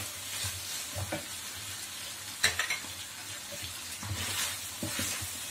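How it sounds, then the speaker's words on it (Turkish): Beef liver sauté with chili flakes, cumin, paprika and thyme being stirred in a pan: a steady sizzle with spoon scrapes and light clacks at irregular intervals, one sharper knock midway, no talking. "İyice karıştırıyorum."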